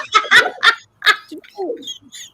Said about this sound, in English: these birds are beautiful and living the way they should live